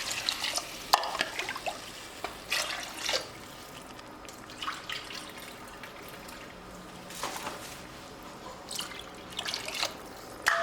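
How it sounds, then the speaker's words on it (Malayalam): Water is poured into a pressure cooker holding chickpeas, heard as quiet splashing and trickling in a few bursts with dripping between, close by and with no voices. "1 കപ്പ് കടലക്ക് കറക്റ്റ് 3 കപ്പ് വെള്ളം ഇട്ടാ ഇതിൽ ഒഴിച്ചു കൊടുക്കുന്നത്."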